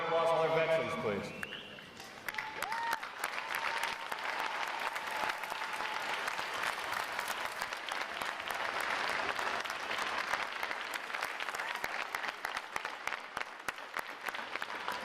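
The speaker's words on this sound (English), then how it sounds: "Would all our veterans please stand so we can give you a round of applause?" Applause for standing veterans at a Navy boot camp graduation, a large crowd clapping steadily and fairly distantly for a long stretch after a brief spoken lead-in.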